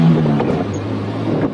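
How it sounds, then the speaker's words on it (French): A Renault J engine idling smoothly after starting, a steady low mechanical hum with a faint whine, close and continuous with no talk. "Un quart de tour et le moteur J démarre sans une seule vibration, dans un feulement digne de chez Jaguar"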